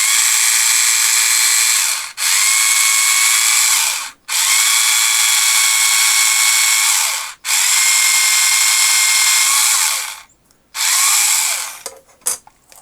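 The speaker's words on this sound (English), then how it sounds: "So I've just got to carefully drill a small hole in there" Close, loud whine of a power drill boring a small hole in a vintage Action Man toy bunk bed, running in several bursts a few seconds long separated by brief stops, ending with short clicks.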